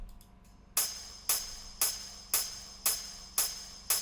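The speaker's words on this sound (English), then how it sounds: "I added a hi-hat, which is a 4/4 hi-hat, which goes like this." A steady 4/4 hi-hat in an amapiano beat, with seven crisp, evenly spaced bright hits after a short quiet lead-in, played alone over a faint low hum.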